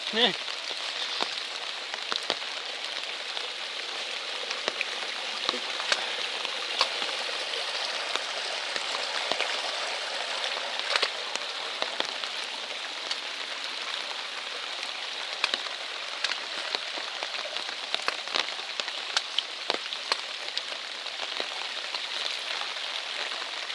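Rain falls steadily on a Maine hiking trail, a dense even patter with scattered sharper drops over a constant hiss, no voices.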